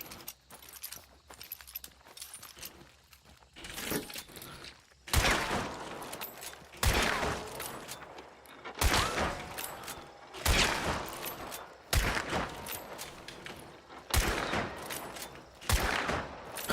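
Rapid bursts of video game gunfire while strafing, loud broadband volleys repeating every second or two across the stretch, with quieter gaps between.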